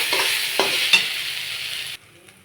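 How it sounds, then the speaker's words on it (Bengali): Banana flower and prawn filling for singara is stir-fried with a close, steady sizzle and a few spatula scrapes. The sound then cuts off abruptly near the end. "সবগুলো ভালো করে ইনগ্রেডিয়েন্ট ভালো করে মাখিয়ে দেবো, খুব সুন্দর করে কষিয়ে দেবো।"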